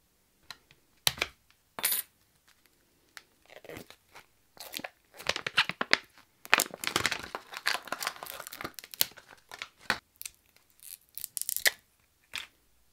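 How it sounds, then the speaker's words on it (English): A blade or scissors cuts a plastic cup away from a resin casting, giving close, scattered snips, crunches and crinkling plastic in irregular bursts with quiet gaps between them. "So I'm just going to cut the cup off now"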